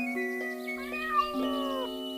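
A black cat that has wandered into a railway station on a branch line meows in a few drawn-out, wavering cries, close and fairly steady, with a low background hum underneath.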